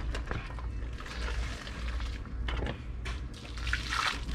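Steady spray of water rinses dirt off a dirt bike in a continuous hissing, splashing stream with small fluctuations, fairly close and moderately quiet.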